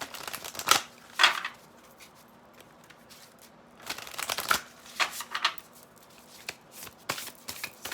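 Tarot cards are shuffled by hand at close range in irregular bursts of riffling and flapping, with quieter pauses between the handfuls and no voices.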